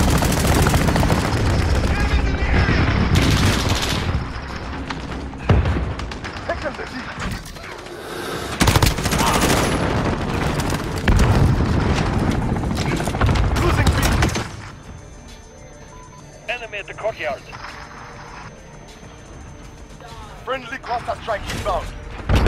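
Bomber gunner air strike in the Modern Warfare video game: dense bursts of rapid automatic gunfire and heavy impacts roll loudly over several seconds, then ease into sparser scattered shots, with game voices talking over parts of it.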